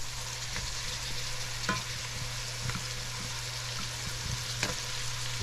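Eggplant sautés in a hot pan, a steady close sizzle and crackle under a low hum, with a few soft clicks and taps from stirring.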